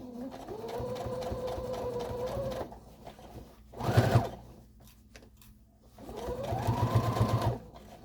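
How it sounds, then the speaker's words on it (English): A sewing machine stitches a denim bucket hat in two steady whirring runs separated by a pause, with a short louder mechanical clunk in between, close and clear. "I'm going to go over to the sewing machine I'm going to sew this"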